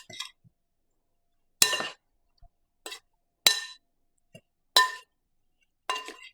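A utensil clinks against a dish while chicken alfredo casserole ingredients are stirred with onion powder: about six sharp, bright clinks spaced apart, with silence between them.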